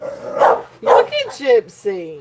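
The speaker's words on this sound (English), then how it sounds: "The dog started barking at him" A dog barks several times in short bursts indoors, close and loud, while a person speaks over and between the barks.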